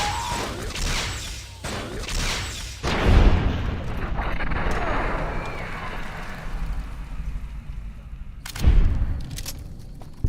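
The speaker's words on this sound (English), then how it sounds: "you gotta stop shooting that gun" Heavy gunfire from a gun in modded Fallout New Vegas: several booming shots, the biggest a few seconds in and another near the end, with rumbling echo and crackle between them.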